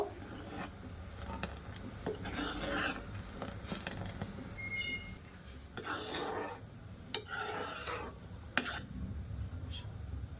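A spoon stirs sago as it simmers in a pot for a pudding, making faint, irregular metallic clinks and scrapes against the pot in a quiet kitchen.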